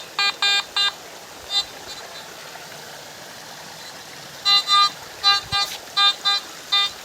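A Garrett AT MAX metal detector gives a quick series of short, clear electronic beeps over gold, a few early and then a tighter cluster later, above a steady background hiss.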